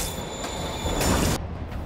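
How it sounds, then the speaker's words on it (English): Moving train in a Spider-Man video game, a steady loud rumble with squealing wheels and a bright whine, swelling toward the end before cutting back, with no talk. "train's moving"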